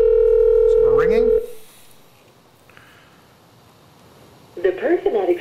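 A telephone line rings through a single long electronic tone while calling a voicemail extension on an Asterisk phone system, then falls silent before a voice begins speaking.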